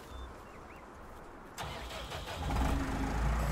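A T6 tractor engine in Farming Simulator 19 cranks and catches about halfway through, then settles into a steady idle that grows louder, with no voices.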